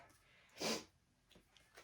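A single quick sniff through the nose, a short breathy burst standing out clearly against a quiet room, followed by faint soft rustles.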